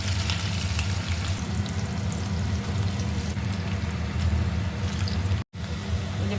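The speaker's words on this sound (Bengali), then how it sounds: "এই পনিরগুলো যতটা সম্ভব একটু দূরে দূরে করে ভাজতে।" Pieces of paneer fry spaced apart in a pan of hot oil, giving a steady, close, bright sizzle that runs without a break except for one very brief dropout near the end.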